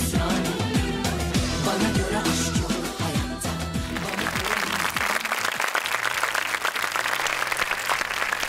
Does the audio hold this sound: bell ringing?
no